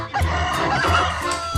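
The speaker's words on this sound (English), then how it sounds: "chicken" A chicken in the video game WildCraft gives a quick run of clucks, loud and near, with no other sounds around it.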